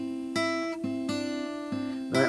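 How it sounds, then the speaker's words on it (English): A guitar riff underlick, repeated plucked notes in a steady rhythmic pattern with sustained tones between attacks, close and clear with no voices. "this guitar riff that I actually did in one take throughout the whole song"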